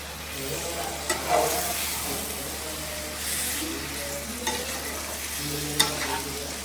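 Stirring chicken curry with turmeric in a frying pan: a soft, steady sizzle of frying with occasional scraping and clinking of a spoon against the pan, close and moderately quiet, with no talk.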